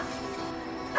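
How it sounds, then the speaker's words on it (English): A dog gives a brief bark, a quick yip over steady background noise, ending in a louder burst. "there are still 5 dogs in the yard"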